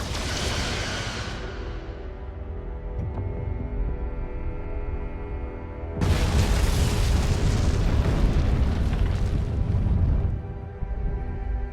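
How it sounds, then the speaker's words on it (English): Photon torpedo explosions in the Star Trek: Resurgence video game: a loud, rumbling blast dies away into a low drone, then a second, heavier roaring detonation hits and thunders for several seconds before cutting off. "Firing photon torpedoes."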